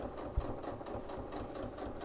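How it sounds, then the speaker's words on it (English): A sewing machine stitches cushion fabric in a fast, even mechanical whir of repeated needle strokes, close but fairly quiet, with one small knock near the start. "I'm going to load this into our machine here. And we're going to start sewing again."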